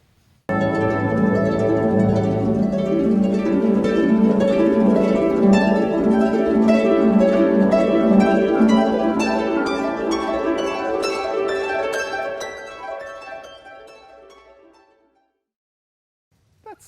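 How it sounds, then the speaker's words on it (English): A harp plays the Waltz of the Flowers from The Nutcracker, with rippling plucked notes and flowing arpeggios heard clearly and alone, slowly fading as the final notes ring out. "Listen for a harp."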